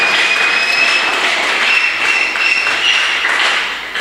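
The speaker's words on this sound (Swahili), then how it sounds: "Tukaribisha mtazamaji wetu kwa makofi, shangwe na vigelegele." A studio audience at a church-related live broadcast claps loudly and steadily throughout, with a shrill high ululation riding over the dense applause, which fades slightly at the end.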